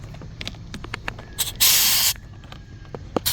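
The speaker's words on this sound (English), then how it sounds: "And then attach the air hose." Compressed air hisses in a short loud burst of about half a second as an air hose is attached to a cooling system pressure tester, surrounded by clicks and handling noises.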